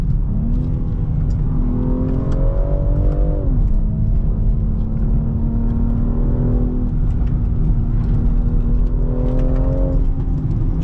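A 2020 BMW X3M Competition SUV accelerates hard, its engine note climbing through the gears in repeated rising sweeps with brief dips between shifts, loud and continuous from inside the cabin with no talk.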